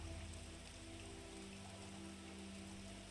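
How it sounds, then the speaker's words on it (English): Gentle rain patters steadily on a window, a soft continuous hiss of drops with a faint low hum underneath, even and unbroken throughout. "listening to the gentle pitter-patter of the raindrops on the window"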